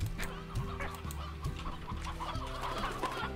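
Chickens cluck in the video game Slime Rancher, repeated close clucks and short squawks in an irregular rhythm over a low steady musical background, with no talking.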